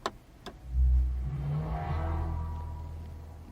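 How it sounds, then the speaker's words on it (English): Two quick clicks, then a low synthetic tone swells and hums steadily, close and fairly quiet, the AMG-specific start-up sound of a Mercedes-AMG EQS 53 electric car. "when you turn the car on, it makes an AMG specific noise"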